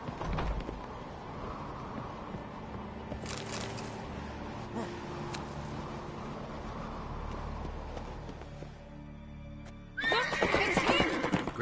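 Horse whinnying and hooves clip-clopping in the game The Witcher 3, with ambient game sounds throughout and a louder burst of neighing and commotion near the end.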